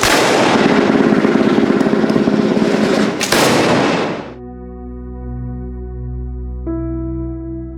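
Loud volley of musket gunfire at an Alamo historical reenactment, a dense crackling burst of several shots lasting a few seconds, then a cut to sustained music.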